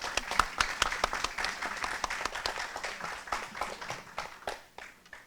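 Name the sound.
applause at party meeting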